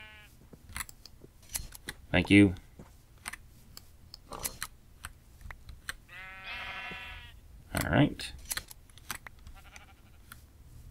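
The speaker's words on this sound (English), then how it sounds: "I'm going to shear these sheep here." Sheep in the Minecraft video game bleat while being sheared, a few short bleats standing out around brief speech and clicky game sounds, fairly close and moderately loud.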